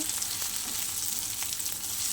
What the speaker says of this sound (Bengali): আমার শাপলা ভাজা প্রায় হয়ে এসছে। এবার আমি তুলে নেব।